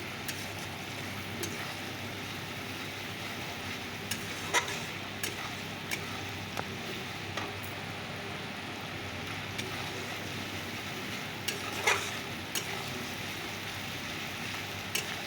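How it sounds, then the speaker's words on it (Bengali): Spice masala lightly frying in a pan while tempering, a soft steady sizzle with scattered ticks and stirring clinks, close and low in level, no voices. "মশলাটা দিয়ে দিয়েছি একদম হালকা আছে ভেজে নিচ্ছি মশলাটাকে"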